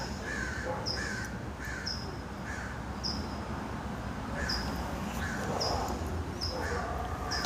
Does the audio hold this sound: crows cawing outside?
yes